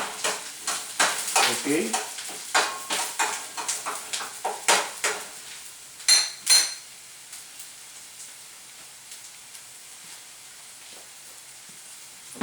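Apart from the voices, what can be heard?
onions and garlic sautéing in a pan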